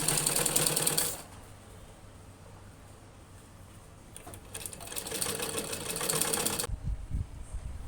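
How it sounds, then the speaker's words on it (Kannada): A sewing machine stitches two strips of blouse fabric in two bursts of fast, steady whirring, loud and close, separated by a quieter pause with softer running. "ಈ ರೀತಿ 2 ಪಟ್ಟಿನ ಹಿಡ್ಕೊಂಡು ಫಸ್ಟು ಒಂದು ಹೊಲಿಗೆ ಹಾಕ್ಕೊಳ್ಬಿಡ್ಬೇಕು."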